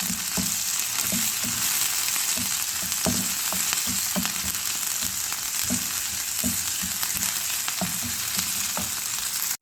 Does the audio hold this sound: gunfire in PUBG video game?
no